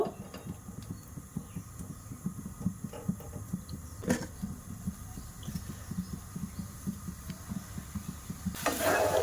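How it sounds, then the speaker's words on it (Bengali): Grated coconut and date palm jaggery cook in a frying pan, giving a soft, steady sizzle with repeated scraping stirs, fairly faint and continuous throughout. "ফ্রাইং প্যানের মধ্যে নারকেল দিয়ে দিয়েছি, ওর মধ্যে খেজুরের গুড় দিয়ে দেব"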